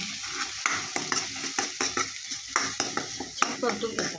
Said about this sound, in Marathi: छान परतून घ्यायचं आपण